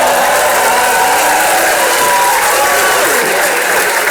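A FlipTop rap battle audience breaks into dense, continuous applause with scattered cheers and whoops, filling the space loudly. Voices blend into the clapping throughout.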